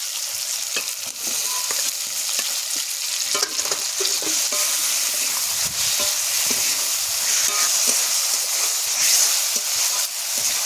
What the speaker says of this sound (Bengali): ভেজে রাখা আলুটা দিয়ে মশলার সাথে ভালো করে কষিয়ে নেব